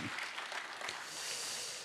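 Church congregation clapping together at a Friday prayer meeting, a dense, steady wash of applause heard from a distance throughout.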